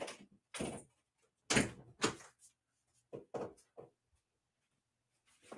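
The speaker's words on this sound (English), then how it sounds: "I'm going to shut my door." An office door is pushed shut in several quick bumps and thuds, fairly close and moderately loud, separated by quiet gaps, with no talking.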